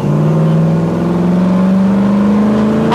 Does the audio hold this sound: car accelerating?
yes